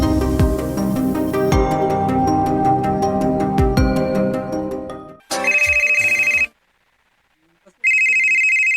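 A telephone ringtone chimes in repeated electronic bursts, loud and close, first over a music-like tonal bed and then alone, with a silent gap before the ringing returns.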